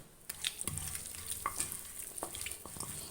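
Chicken pieces being mixed with turmeric, chili powder and salt, a short run of soft, wet rustling and squishing bursts, faint and close with no voices.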